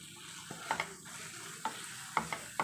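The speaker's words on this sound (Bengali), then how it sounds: "মশলাগুলো আমি আরও অল্প করে ভেজে নেব" Ground spices and ginger-garlic paste fry in a pan for prawn malai curry, a soft steady sizzle broken by several sharp scraping stirs of a spatula.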